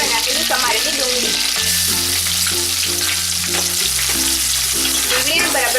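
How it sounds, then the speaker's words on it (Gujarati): Chopped onion goes into hot oil already seasoned with bay leaves, curry leaves and chillies, setting off a loud, dense, continuous sizzle up close, with low hum-like tones running underneath. "હવે નાખીશું સમારેલી ડુંગળી"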